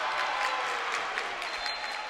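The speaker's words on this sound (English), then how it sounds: "And the crowd applauds at that." Basketball crowd applauding after a short, missed free throw, a steady wash of clapping filling the whole moment at moderate volume with no voices on top.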